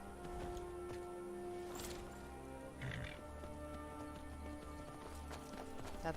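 A summoned horse gallops toward the player in the Skyrim video game, its hoofbeats a steady clip-clop running through the whole stretch over a constant background hum, with no talk.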